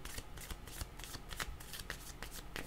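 Deck of tarot cards being shuffled by hand, a close run of crisp riffling flutters and soft slaps repeating quickly for a few seconds, with no speech.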